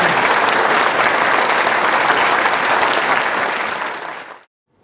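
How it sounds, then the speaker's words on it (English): A convention crowd at a furry fandom opening ceremony applauds for Kyle, loud, dense clapping sustained for about four seconds before cutting off abruptly. "A round of applause for Kyle, please."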